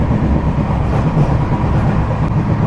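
Inside a general coach of the Bengaluru to Visakhapatnam special, a loud, steady rumble of the train running along the rails fills the space, with a continuous low roar and faint rhythmic clatter.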